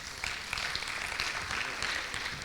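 Steady, dense applause from a school debate audience in Nairobi, a continuous wash of many hands clapping at even loudness for a competition between two secondary school teams.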